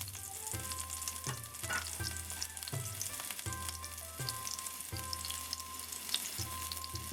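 Pepper, ginger and garlic sizzle and fry steadily in a hot pan for a Trini Chinese lo mein, with repeated scraping stirs cutting through the crackle; close and alone, no voices.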